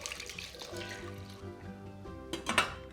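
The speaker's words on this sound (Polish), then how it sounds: "teraz wylewam szklankę chłodnej wody" Cool tap water is poured from a glass into a pot of rice, a short gurgling splash over a faint background that grows louder toward the end.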